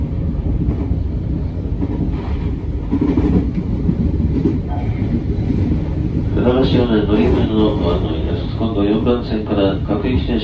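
A Tobu Urban Park Line train in Japan rumbles steadily and loudly, with a voice announcement of the last stop carrying over the running noise in the second half.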